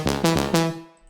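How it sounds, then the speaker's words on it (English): A trance synth lead with a short-decay stock Fruity Reverb plays four punchy chords in an uneven rhythm, with a brief ambient tail after each hit before the sound thins out at the end. "And with the reverb it will sound like this."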